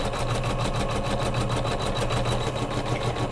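An embroidery machine stitches a Kimberbell quilted pillow in its hoop, its needle pounding in a fast, even rhythm over a steady motor drone, loud and close, with no talking.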